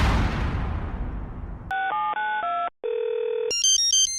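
A telephone rings with an incoming call: a short whooshing burst, then a loud electronic ringtone of stepped beeping melody notes. The tune pauses briefly and then continues higher, with no speech.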